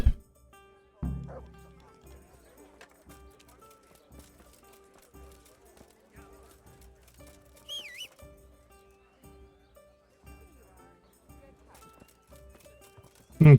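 Horse hooves clop steadily at a moderate distance in the Kingdom Come: Deliverance video game, faint and continuous, with brief louder bursts near the start and end and occasional game sounds over them.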